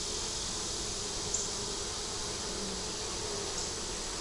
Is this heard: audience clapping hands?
no